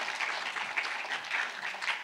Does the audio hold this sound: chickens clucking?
no